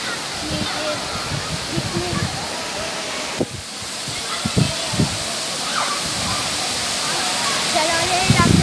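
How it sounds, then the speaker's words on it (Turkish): Steady broadband roar of the Sabun Çayı waterfall close by, a continuous rushing wash with a few brief splashy bursts, while voices talk over it. "şelaleye yaklaştık arkadaşlar"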